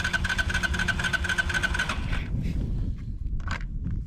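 A demolished Honda TRX ATV engine on a 20°F cold day cranks with a rapid, rhythmic churning for about two seconds, then stops and leaves a low rumble and a few faint clicks.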